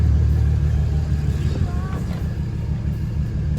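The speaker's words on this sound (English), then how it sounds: "I'm just gonna go ahead and give it a few more revs for you guys" A BMW 335i engine idles with a steady low rumble and is revved once, the pitch rising briefly and falling back to idle, close and moderately loud.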